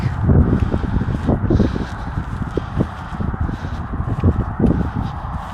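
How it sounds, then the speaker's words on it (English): Steady outdoor wind buffeting the microphone, a constant low rumble with gusty rustling throughout, no voices. "I don't know what you can hear because of the wind"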